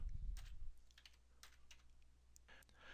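Keystrokes on a computer keyboard as a Linux installer command is typed, a quick run of close, distinct clicks with a soft thump at the start and otherwise quiet room.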